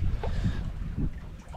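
Wind rushes steadily across a sailboat under way during a solo sail, a low, continuous blustery roar with gusty swells and no voices.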